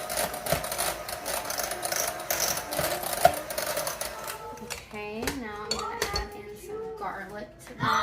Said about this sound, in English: give it a good whisk or stir